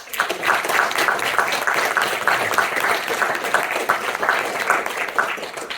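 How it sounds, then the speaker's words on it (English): A small comedy-society audience at a Taskmaster-style show applauds steadily for about six seconds, a dense, even patter of clapping with no gaps and no speech over it. "Round of applause"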